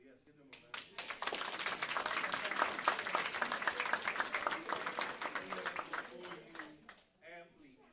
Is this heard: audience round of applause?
yes